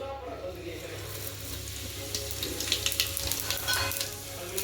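Cumin seeds sizzle in hot ghee and oil for an egg rice dish, a steady close crackling hiss with brief sharper pops and spatters toward the end, no voices.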